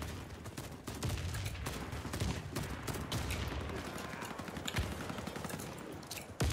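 Rapid automatic AK-103 rifle fire in the shooter game Warface, loud and close, with dense bursts and sharp repeated shots running continuously throughout.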